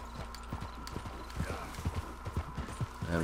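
Steady clip-clop of horse hooves walking at an even pace in the video game Red Dead Redemption 2, close by, with faint background ambience.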